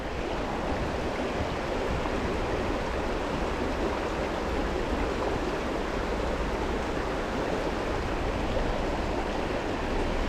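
Small mountain creek running steadily over rocks, a continuous close, full rushing wash of water with no pauses or voices.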